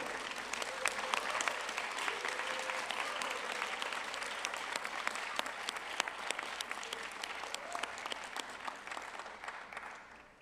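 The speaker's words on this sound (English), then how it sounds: "So please applaud all these people that I mentioned and shout to them" A graduation ceremony audience gives sustained applause, dense clapping that holds steady for about ten seconds before starting to fade at the very end.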